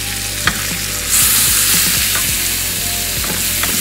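Leftover rotisserie chicken, salted and peppered, sizzling loudly in a pan and stirred with a scraping utensil, with repeated scrapes and clicks over a constant frying hiss, no voices.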